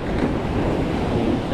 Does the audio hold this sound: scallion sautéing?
no